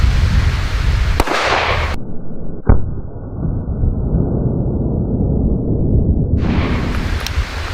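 A PSR40 handgun fires two sharp, loud shots about a second and a half apart, each a sudden crack with a brief ringing tail, followed by quieter background.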